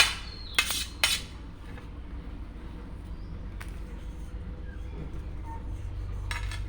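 A metal spoon scoops the flesh out of roasted drumsticks (sajne, moringa pods), with a few sharp clinks and scrapes near the start and a soft clatter later, against a low background rumble.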